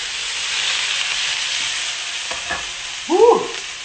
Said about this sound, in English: Y'all heard that sizzle, right?